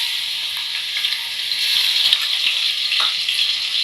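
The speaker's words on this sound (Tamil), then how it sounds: "இஞ்சி பூண்டு பேஸ்ட்டு பச்சை வாடை போகிற வரைக்கும் வதக்கி விட்டுக்கணும்." Ginger garlic paste sautés in hot oil over fenugreek seeds for a Tamil fish curry, giving a steady bright sizzle with a few soft stirring scrapes, close and continuous, with no voices.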